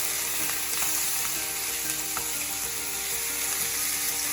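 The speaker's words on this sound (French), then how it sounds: "Dans notre poêle, on fait d'abord revenir notre farce de veau avec notre chair à saucisse" Veal stuffing and sausage meat browning in a frying pan, a steady dense sizzle throughout with a few brief clicks of stirring, no voices.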